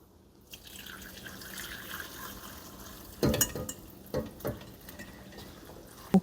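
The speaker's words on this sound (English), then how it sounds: "I'm going to strain this broth into a large bowl" Homemade chicken broth strained into a large bowl gives a soft, steady trickle with a few louder splashes and drips, fairly quiet and close.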